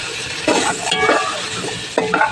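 Potatoes and carrots frying in margarine for chicken liver apritada, a soft continuous sizzle broken by a few bursts of stirring and scraping in the pan.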